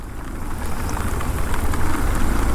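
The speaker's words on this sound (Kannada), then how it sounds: "ಭಯಂಕರ ಮಳೆ" Heavy rain pours down in a dense, continuous hiss with a low rumble beneath, growing slightly louder toward the end, with no voices.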